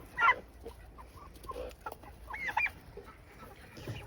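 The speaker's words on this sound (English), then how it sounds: "These birds have been making the egg song." Chickens cluck and cackle the egg song in short, scattered bursts, moderately distant, with a louder squawk near the start and softer calls following.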